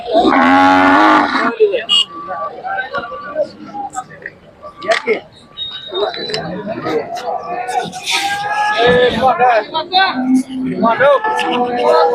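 A Khillar cow gives one loud, close moo at a busy cattle market in Sangola, Solapur, followed by the chatter of voices and general crowd noise.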